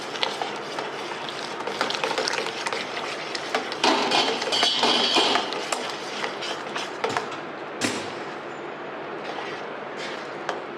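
A spoon works quickly through matki amti batter in a pot, giving a steady run of scraping and clattering knocks against the metal, fairly close and busy throughout, with a brief louder burst of clatter near the end.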